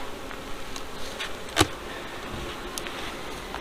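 Honeybees in a hive being split buzz in a continuous faint drone, broken by one sharp close click.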